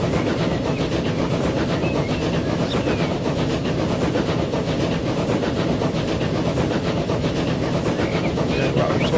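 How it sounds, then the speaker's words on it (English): Trains rolling along the rail lines of a Transport Fever transit network, a steady dense rumble with faint clicking running unbroken throughout, loud and close, with no voices over it. "Got another train coming the other way, which is cool."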